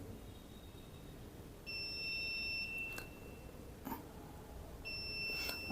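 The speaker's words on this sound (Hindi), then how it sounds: "अब जैसे उस लिमिट को क्रॉस करेगी तुरंत बीप आ जाएगी" A DC regulated power supply beeps when its current limit is crossed. Several sharp electronic beeps of uneven length cut over a steady background hiss, with a few brief clicks between them.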